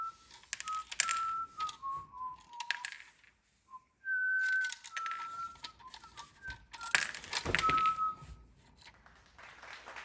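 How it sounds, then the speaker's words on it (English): A person whistles a British tune solo, a bright, clear melody in phrases broken by brief pauses, with faint clicks and handling noise in the background. "I'm compelled to whistle the most British of tunes."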